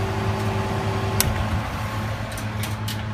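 A freezer coldroom's refrigeration compressor runs in a loud, steady drone with a low mechanical hum, a few faint clicks and ticks over it.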